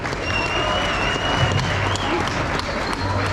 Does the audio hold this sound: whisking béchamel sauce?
no